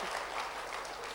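A church congregation at a revival night gives a brief burst of applause, a dense, even wash of clapping from many hands heard at a moderate distance.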